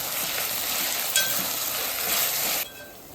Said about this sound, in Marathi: आता तुम्ही बघताय अद्रक लसूणची पेस्ट आहे ना, ती छानपैकी आपली परतून झाली आहे बघा.